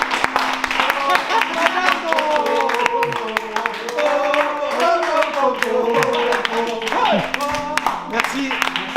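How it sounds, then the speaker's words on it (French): A group claps and applauds actor Ricardo on the set of a French police-station drama, a sharp, continuous patter of hands lasting several seconds while voices and sustained tones carry over it. "J'aimerais un tonnerre d'applaudissements pour Ricardo"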